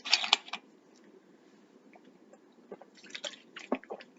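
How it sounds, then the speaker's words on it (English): A person drinks water at close range, with a few soft gulps and wet mouth clicks separated by near silence. "Drinking water."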